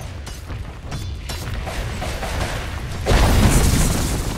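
A tower collapsing in Dota 2 during a match, with low rumbling booms over game noise that swell into a loud, dense crash of debris in the final second and a half.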